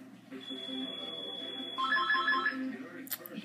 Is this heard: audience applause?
no